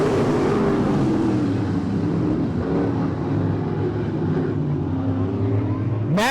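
Late model race cars roar away together at the green-flag start of a race at I-37 Speedway, a dense, loud, sustained engine rumble that swells as the field accelerates, with a faint announcer voice underneath.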